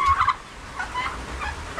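Turkeys gobble in short rattling bursts, one near call at the start and fainter repeated gobbles after, over low outdoor rumble on a small farm.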